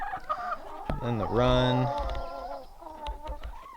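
Chickens in a backyard coop and run cluck and call close by, with one drawn-out squawking cry standing out, while a person talks briefly.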